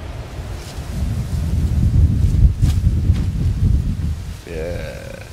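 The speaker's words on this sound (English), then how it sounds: "It's pretty windy." Strong wind buffeting a winter tarp campsite, a loud low roaring rush that swells and gusts against the microphone for several seconds before easing, with a brief tonal sound near the end.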